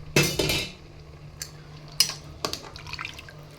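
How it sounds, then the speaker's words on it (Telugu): Water is poured over rice in a pressure cooker for chicken biryani, a short splashing gush at the start followed by scattered drips and clinks of metal utensils, close and moderately loud. "అలా వాటర్ చూసుకొని వేసుకోండి."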